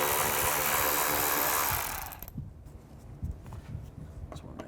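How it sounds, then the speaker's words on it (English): A power tool whirs loudly for about two seconds while backing out a bumper screw with a T20 socket on a Chevy Cruze, then stops, leaving quiet handling clicks and light knocks. "Now from underneath, I'm going to take these screws out."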